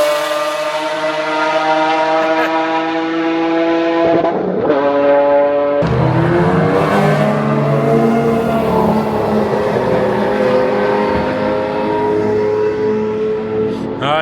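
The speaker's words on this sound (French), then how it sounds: "Regardez ce qui tourne. Ça, c'est tout simplement une McLaren F1." A McLaren F1 supercar engine runs loudly at the Le Castellet circuit, a steady harmonic drone that drops briefly, then swells again and shifts in pitch as it revs, close and continuous with no talk.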